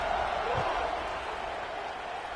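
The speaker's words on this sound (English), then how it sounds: "this crowd is buzzing after that last score" A college football video game crowd in a Michigan vs Oklahoma matchup buzzes after a score, a steady, dense roar of stadium noise with a brief thud near the start.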